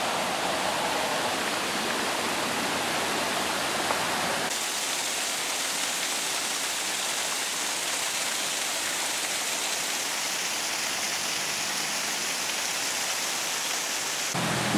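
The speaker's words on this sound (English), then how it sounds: "stopped over here for a last look at the waterfall," Waterfall near a small town, heard a little closer up as a steady, loud broadband rush of falling water that continues unbroken throughout, with no voices.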